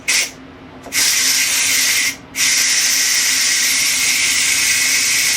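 Loud, steady hissing of pressurized steam from a Ninja Foodi pressure cooker's quick release, briefly cut off twice before blasting continuously again.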